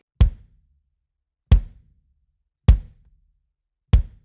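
Four close, punchy hits on a kick drum tuned lower for a metal style, each a short dry thud that dies away quickly, spaced evenly with silence between.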